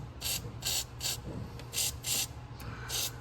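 Several short, sharp hissing bursts from an aerosol spray can aimed at a car's crankshaft position sensor area, spaced fairly evenly, over a low background hum.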